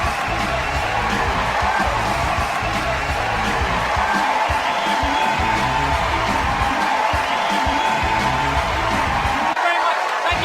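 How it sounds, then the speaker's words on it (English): A comedy club crowd cheers, whoops and applauds loudly after a Bill Burr stand-up set, a dense continuous roar filling the room for the whole stretch. "round of applause for Bill"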